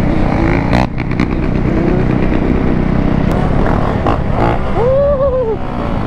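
A four-stroke off-road motorbike engine runs steadily and loudly close by, giving a continuous mechanical drone, with a brief rising whine near the end.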